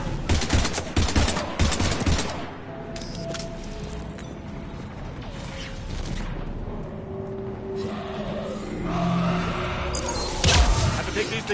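Gunfire in the video game Mass Effect 3, rattling bursts of automatic fire mixed with mechanical clanks and creaks, loud at the start and end with quieter stretches between, no talk.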